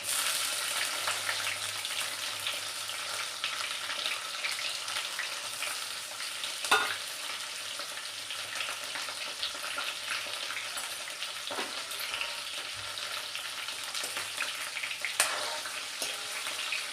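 Pointed gourds (parval) frying in oil tempered with mustard seeds and cumin: a continuous close hiss and crackle with occasional stirring knocks against the pan, steady throughout, no talking.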